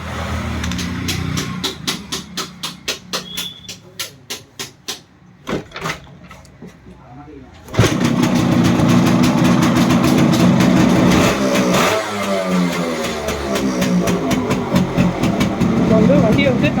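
A restored Yamaha RX 135 motorcycle is kicked over with a series of rhythmic start attempts, then fires up loudly and settles into a steady, close-up idle with occasional blips of throttle.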